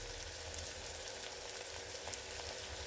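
Curry leaves and green chillies sautéing in hot oil give a faint, steady sizzle with soft crackles throughout, heard close with no voices.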